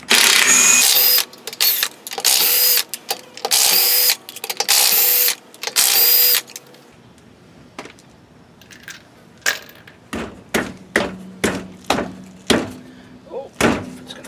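A car jack and wrench at work on a flat tire in a home driveway: several loud, harsh bursts of clanking, then a quieter pause, followed by a run of sharp metallic clicks and knocks at an uneven pace.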